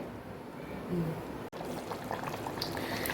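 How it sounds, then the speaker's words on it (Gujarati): Gujarati undhiyu, a mixed vegetable curry with gota dumplings, boils in an open pot with steady close bubbling and a soft hiss throughout. "અહીંયા આપણું ઊંધિયું 1 મિનિટથી ઉકળે છે"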